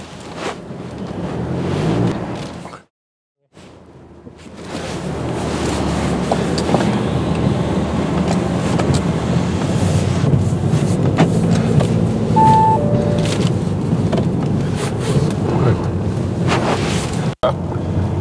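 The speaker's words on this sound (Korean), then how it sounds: "자, 이제 주행을 한번 시작해 보도록 하겠습니다." A diesel Audi A6 sedan drives along, its steady engine and road rumble filling the cabin with broad wind-like noise; a brief dropout near the start, then continuous loud driving sound without talk.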